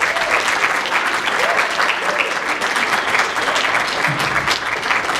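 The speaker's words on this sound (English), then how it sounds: "could you please give a round of applause?" Sustained applause from a jazz concert audience, dense and even clapping filling the room without a break.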